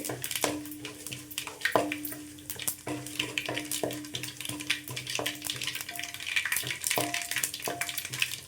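Chana dal sizzling in a pan over a medium flame with a faint crackle and scattered light scrapes of stirring, quiet and close with no voices.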